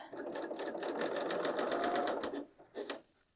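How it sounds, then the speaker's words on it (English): A BERNINA L 890 sewing machine runs a 5-thread combo stitch along the seam lines of a woven top, a close rapid mechanical whir that stops abruptly, followed by a brief second spurt. "we're going to use our 5-thread combo stitch to just sew along these two seam lines"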